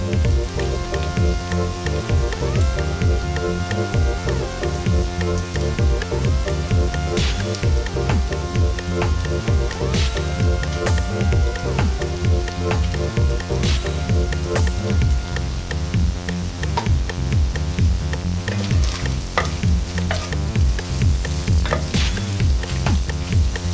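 Chili ingredients toasting in a hot pan with chili powder, a steady crackling sizzle with stirring and scraping running continuously, close and fairly loud.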